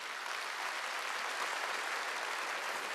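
A church congregation at a Sunday worship service claps together, producing a dense, sustained wash of applause at an even level for a few seconds with no speech over it.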